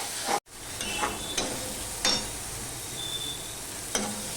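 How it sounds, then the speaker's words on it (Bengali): Masala sautés in a pan for a pomfret fish curry, a continuous sizzle with several sharp spatula scrapes and taps against the pan at irregular intervals. "মশলাটা কিছু প্রায় কষানো হয়ে আছে আর একটু কষাতে হবে"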